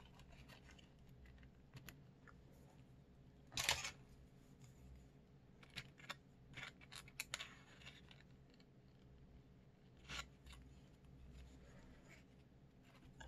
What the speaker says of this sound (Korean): 자, 그리고 가위를 사용해서